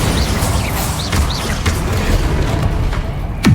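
A Bombarda spell blast in the Hogwarts Legacy video game, a loud, dense booming roar that fills the moment and ends in a sharp final impact with a falling low tail.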